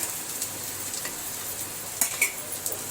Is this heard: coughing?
no